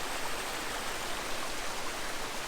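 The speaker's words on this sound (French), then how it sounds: "On est arrivé aux cascades." Steady, dense rushing water fills the scene, a constant broadband roar of a waterfall heard from nearby in the Tīpaeru'i Valley, Tahiti, with no breaks or other sounds.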